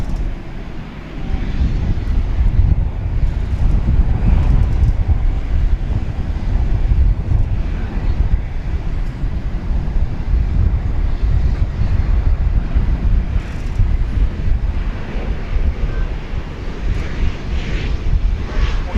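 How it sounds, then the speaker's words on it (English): An American Airlines Boeing 737-800 departs DFW airport at night, its engines a loud, sustained low roar, with gusting wind buffeting the microphone throughout. "That is American Flight 364 off to San Jose, California, 737-800."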